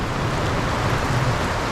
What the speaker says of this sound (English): as you can hear, it's absolutely teeming down rain.